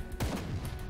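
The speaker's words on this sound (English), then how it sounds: "I hear gunshots." Two sharp gunshot bursts from the video game Grim Dawn, about a second apart, loud and close, over a dense rumbling background.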